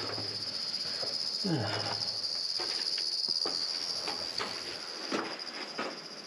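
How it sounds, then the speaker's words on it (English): Steady high-pitched cricket chirping throughout, with faint scattered taps and rustles underneath inside a cave. "They're all like chirruping and stuff."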